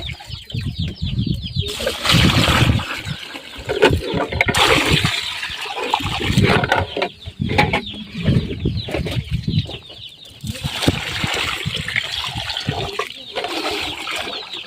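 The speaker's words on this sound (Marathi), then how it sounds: "तर बघा मी आता याच्यामध्ये पाणी टाकून देते" Water poured into a bowl to soak finger millet bran, splashing and gurgling loudly in bursts with brief pauses, no talking.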